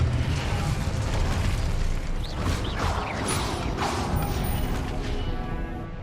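Spell effects from Hogwarts Legacy combat, with an Incendio fire spell cast amid other magic: a dense, continuous whooshing, crackling rumble with bursts and pops, loud and steady throughout with no talk.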